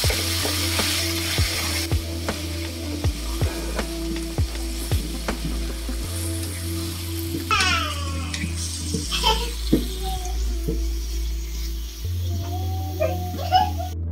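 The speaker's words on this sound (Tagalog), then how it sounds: "Pag nag-golden brown na ang ating bawang, ilagay na natin ang ating beef." Garlic and beef for Filipino bistek sizzle steadily in a hot pan, loud and close, with the clatter of a utensil stirring and scraping now and then, and a faint voice in places.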